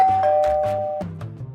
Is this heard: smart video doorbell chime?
yes